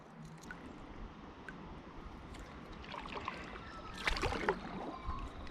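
Kayak trolling a minnow lure along a river while fishing for redfin: soft continuous water swish and gurgle against the hull, with a few louder splashes and paddle drips near the end, quiet and close.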